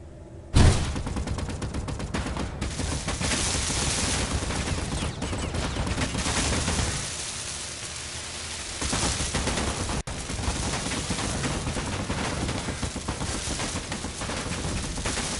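Sustained bursts of rapid gunfire with tracer rounds aimed at drones in the survival video game Helios Underground, loud and continuous with a brief lull partway through.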